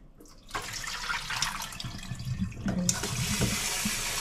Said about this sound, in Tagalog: Palitan natin itong tubig